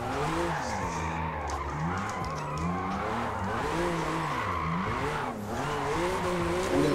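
A 656 hp BMW M2 drifts in the Forza Motorsport racing game, its engine droning and wavering in pitch as the throttle is modulated, with continuous tire squeal layered on top, steady and loud throughout.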